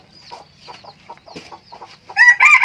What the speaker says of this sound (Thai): ดูไก่ตัวนี้ก่อนนะครับ